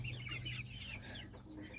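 Chickens cluck softly in a backyard coop, a few short murmuring calls over a low steady background hum, faint and fairly distant.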